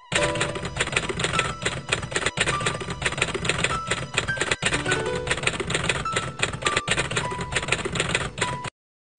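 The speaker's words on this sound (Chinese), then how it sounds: "这样子你就一直有这个打字机音效在下边" Looped typewriter typing sound effect in Adobe Premiere 2020, a dense, steady stream of rapid mechanical key clacks with occasional sharper strikes, close and continuous for about nine seconds, then abruptly stopping.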